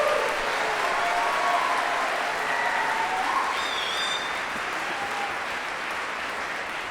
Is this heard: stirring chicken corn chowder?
no